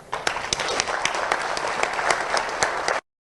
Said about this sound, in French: Je demande aux honorables conseils nationaux d'acclamer Monsieur le Président de la République pour la facilitation de ce travail.